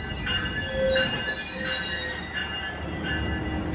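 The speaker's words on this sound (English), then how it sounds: "Oh, the train car's right there." A train car pulls into a station with loud, close metallic wheel squeals in sustained high tones over a rumbling rail roar, no voices.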